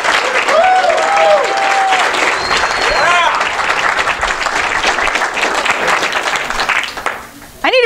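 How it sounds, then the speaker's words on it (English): Audience at a design talk breaks into a loud, sustained round of applause to welcome the speaker onstage, steady clapping with a few whoops, fading out near the end. "would you please, with a large round of applause"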